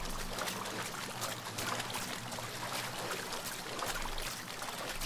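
Water trickles and runs steadily through a flooded, abandoned amusement park in the video game Mafia III, forming a continuous, even wash of splashing flow with no voices.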